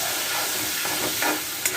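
Potatoes sizzling in a pan for a Bengali vegetarian dish, a steady close hiss and crackle with a short stir midway.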